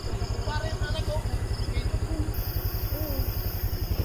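A motorcycle engine on a road to a mountain campsite, with a steady, pulsing low throb from a close idling or slow-running engine while people talk faintly.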